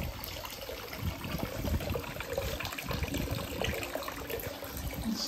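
Spring water flows at the site of the Civil War prison at Andersonville, Georgia, a soft, continuous trickling stream with fluctuating splashy texture, moderately faint and heard alone without speech.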